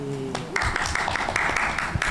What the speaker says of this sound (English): Brilliant round of applause.